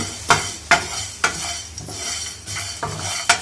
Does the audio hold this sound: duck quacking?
no